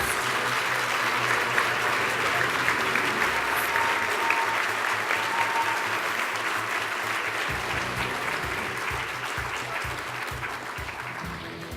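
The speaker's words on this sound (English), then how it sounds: "Let's give our 9 finalists a round of applause." A large crowd at a game show applauds steadily for about twelve seconds, a dense, even roar of clapping that slowly tapers off slightly toward the end.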